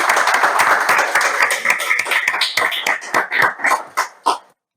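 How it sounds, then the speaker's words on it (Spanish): Audience applause after a lecture introduction, a dense burst of clapping that gradually thins into scattered separate claps before stopping, close and fairly loud. "Un aplauso."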